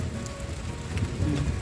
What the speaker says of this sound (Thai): ฝนตกบ่มื้อนี้เนาะ